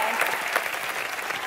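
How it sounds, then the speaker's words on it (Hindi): An audience at a Hindi entertainment show breaks into brief, loud applause, a dense burst of clapping from many hands. "तालियां"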